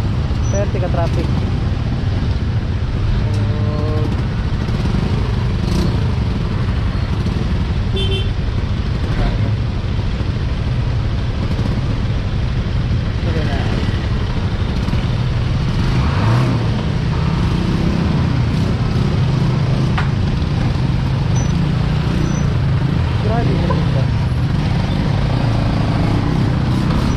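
Heavy road traffic in Davao City near Piapi Boulevard: a continuous loud roar of cars, buses, motorcycles and trucks close by, with engines rising and fading and occasional horn-like tones, while people talk over it.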